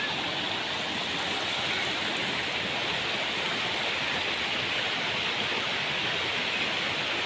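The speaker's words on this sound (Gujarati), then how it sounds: "ઝરણાનો અવાજ." A forest stream at Ratanmahal sanctuary's Nalda camp in Dahod district rushes steadily, a dense, even wash of flowing water close by with no pauses or voices.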